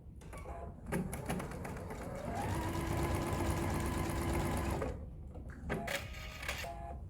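A sewing machine stitches the boxed corners of a drawstring pouch's fabric lining in one steady motor-driven run of about four seconds, close and fairly loud, with short handling clicks and rustles before and after.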